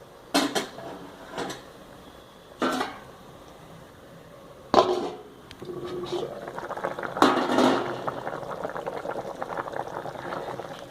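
A few sharp clanks of a pot and utensils, then a thick ripe-mango curry with tamarind water bubbles and boils steadily up close.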